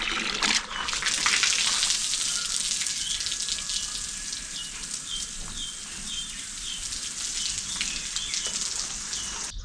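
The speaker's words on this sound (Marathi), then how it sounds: "ते पाणी इकडे चालू झालेलं आहे." Water pours steadily from a tap, a continuous close hiss and splash lasting throughout with no talking.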